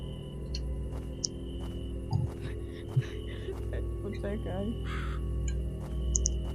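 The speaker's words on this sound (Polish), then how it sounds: "Te zasrane kruki mnie denerwują" Ravens caw in a survival video game, harsh calls scattered over a steady low ambient hum, moderately faint and set back in the mix.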